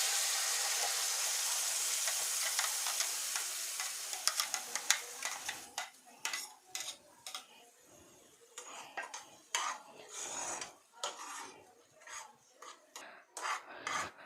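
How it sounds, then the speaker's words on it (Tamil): Cumin powder and ground paste frying in a pan for paneer butter masala, a loud steady sizzle that quiets down as a spoon scrapes and stirs in repeated close strokes. "இது கொஞ்சம் லைட்டாக பொரிஞ்சு வந்த உடனே நம்ம அரைச்சி வச்சுருக்க பேஸ்ட்டை இதில் ஆட் பண்ணிடலாம்."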